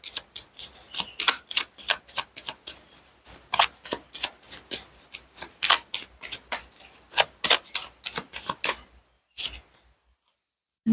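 Tarot cards being shuffled and laid out, a long run of crisp, rapid card snaps and slaps in an uneven rhythm, close and fairly loud, slowing to a few isolated flicks at the end.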